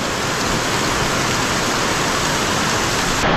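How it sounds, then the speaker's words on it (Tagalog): Heavy rain pours down in a steady, dense roar of broadband hiss, loud and continuous with no voices. "Grabe lakas ng ulan."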